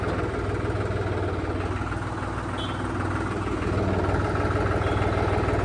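A tractor engine on BKT radial tyres runs steadily at idle, a continuous low chugging rumble with no voices.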